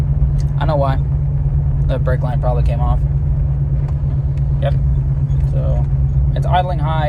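A steady low Jeep engine hum, idling high with a hard brake line, runs throughout at a constant pitch, with several people talking intermittently over it.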